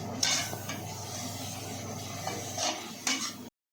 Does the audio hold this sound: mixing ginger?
yes